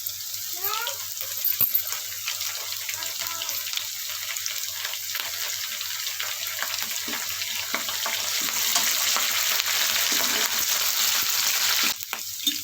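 Curry leaves fried in hot oil with onions for a broad bean fry, a close crackling sizzle with sputtering bursts early, steady frying hiss throughout and a faint voice in places.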